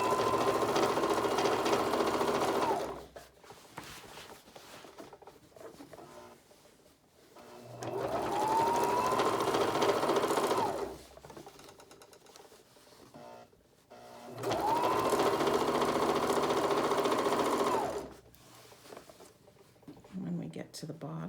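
A sewing machine stitches down the middle of the tape on a cardigan in three sustained bursts of a few seconds each, separated by quieter pauses with light handling.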